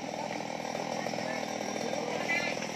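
A chainsaw runs steadily at high revs, cutting the stump of a felled palmyra palm, close and continuous with a slight surge near the end.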